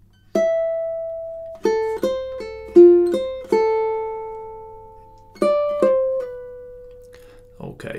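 Ukulele playing measures 3 and 4 of Swan Lake: clear plucked single notes and short phrases, some held and ringing out, alone with no voices.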